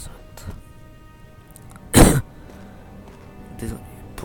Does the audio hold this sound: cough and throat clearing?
yes